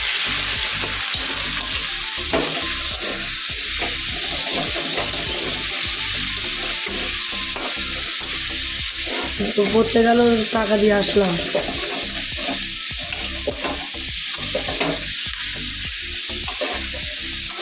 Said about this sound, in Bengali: একটু আলু চপ ভাজো